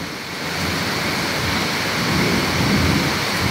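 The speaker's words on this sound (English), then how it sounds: "Thunder, lightning." Thunder rumbling during a heavy rainstorm, a low rolling swell over the constant loud hiss of pouring rain, with no voices.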